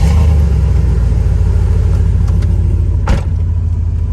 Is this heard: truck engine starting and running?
yes